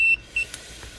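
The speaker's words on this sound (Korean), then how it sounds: "여기 탐지가 되면 삐 소리 나죠?" Short electronic beeps from a GPS tracker detector picking up a signal, two brief high tones separated by a pause, close and clear with little else around.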